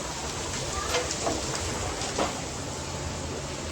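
Heavy rain pours steadily in a dense, unbroken wash of noise, with a few louder splashes standing out.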